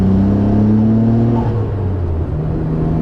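A 1992 Nissan R32 Skyline GTR accelerates with its turbos coming on, giving a loud, steady engine drone with a whirring tonal whine. The pitch shifts slightly as it pulls, heard close from the cabin with no talking.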